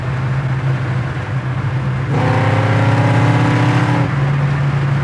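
A 1955 Chevy's engine drones loudly and steadily, then surges into a harder, higher-pitched pull for about two seconds before settling back to its steady hum, with no talking.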